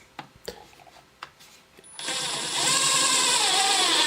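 Milwaukee M12 Fuel drill driving a 2.5 inch screw at low speed: a few clicks and handling knocks, then a steady whirring motor that rises slightly in strain as the screw goes in, close and loud.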